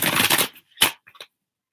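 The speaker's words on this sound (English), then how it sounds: "One more shuffle." Tarot cards being shuffled by hand: a dense riffling burst for about half a second, then a short sharp flick and a few faint taps, close and fairly quiet with no talking.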